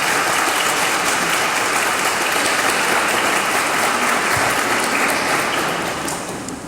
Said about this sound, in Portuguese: Então aplauda a Virgem Maria